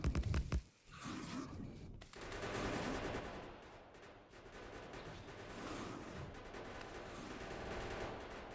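Factorio gun turrets keep up continuous rapid fire on biters, a quiet, steady rattle lasting the whole stretch after a brief louder opening.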